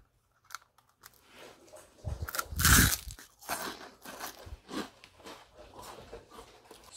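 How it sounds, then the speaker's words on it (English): Crunching and chewing on a coconut roll snack, close and fairly loud, with bursts of crisp crackle peaking mid-way and smaller bites continuing after. "Superior crunch in the coconut roll"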